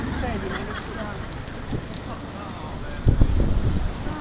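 Winter wind blows at Mondello, a steady low rumble of gusts on the microphone, growing louder near the end, with a person talking faintly over it.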